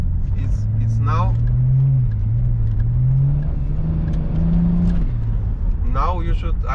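A remapped BMW E38 725 TDS diesel with twin exhaust drives through the city, a steady low engine drone that rises and falls with throttle changes, with brief voices over it.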